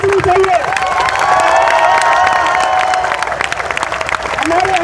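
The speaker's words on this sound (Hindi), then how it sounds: "तालियां बजनी चाहिए।" Audience at a political gathering about COVID health assistants applauds and cheers, dense sustained clapping with crowd noise throughout, loud and close, with voices rising above it near the start and end.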